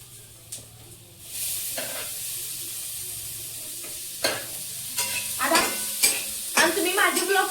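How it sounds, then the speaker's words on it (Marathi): Tomatoes and salt stirred in a hot frying pan: a steady close sizzle with repeated scraping stirs, the frying getting louder partway through. "आता आपण हलवणार आहे आता टमाटर टाकूया"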